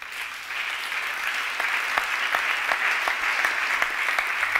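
A church congregation claps steadily for several seconds, a dense, sustained applause that swells slightly louder toward the end, with no voices on top.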